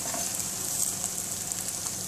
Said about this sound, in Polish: I smażymy placki.